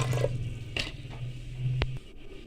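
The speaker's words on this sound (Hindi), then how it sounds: "इसमें पानी शामिल करेंगे।" Water poured into a pressure cooker holding beef for Arabic biryani, a short splashing gush of liquid filling the pot, near and fairly soft, ending abruptly after about two seconds.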